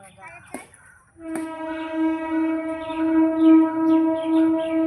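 A train horn sounds a long sustained blast as the train passes, loud and steady after a short clank at the start.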